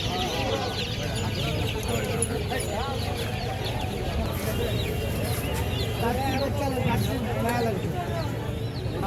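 Chickens clucking in a busy Tongi animal market, a dense, continuous chorus of hens and fowl with a crowd murmuring and talking throughout.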